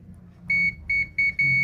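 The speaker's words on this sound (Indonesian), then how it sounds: "Kita arahkan ke skala buzzer." A multimeter's continuity buzzer, used while calibrating the probes during a two-door refrigerator short-circuit repair, gives four short, bright electronic beeps in an uneven rhythm over a faint low hum.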